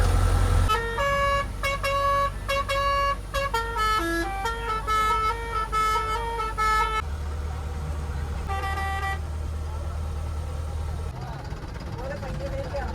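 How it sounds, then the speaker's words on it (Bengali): Bus horns honk on a rural monsoon-season road toward Bakkhali in West Bengal, sounding as several loud, sustained multi-tone blasts in quick succession over a steady low engine and traffic rumble. "বেশ হর্নগুলো কিন্তু শুনতেও বেশ কিন্তু ভালো লাগছে, বাসের হর্নগুলো।"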